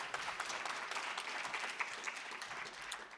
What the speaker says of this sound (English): I presume that clap was for you, huh?